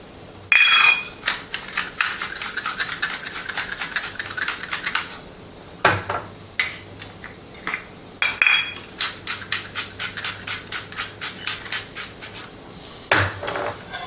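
Clattering utensil and dish sounds from mixing food in a bowl while cooking Thai-style chicken curry noodles, with two bursts of rapid scraping and clinking separated by brief pauses, close and fairly loud with no talking.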